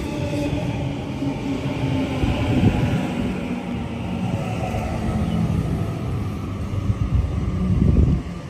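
A Sydney Trains A49 set on the T3 Bankstown Line at Canterbury, heard as a steady low rumble of a passing or departing train, fairly loud and continuous with swelling near the end, no talk.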